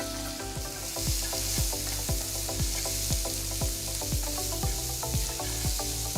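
Chopped onion hitting hot oil with popped mustard seeds and asafoetida, a dense steady sizzle punctuated by regular clanking stirs of a spatula against the pan, close and loud with no talking.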